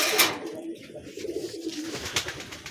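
A single male giribaz pigeon calls among pigeons, giving soft close-up cooing phrases that repeat in low throaty pulses, with faint background rustle.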